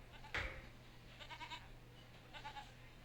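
Sheep bleating in the video game Railroad Tycoon II, a few faint, wavering bleats heard in the background with no talk over them.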